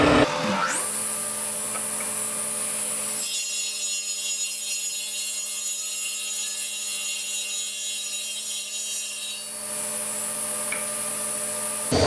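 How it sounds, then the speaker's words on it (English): A spindle moulder with a power feed cutting a groove in oak for a casement window: a loud steady machine whine, with the tone dropping into a deeper cutting drone as the wood is pulled through, then rising again. "we can use the power feed to pull them through and do a nice accurate spindle groove"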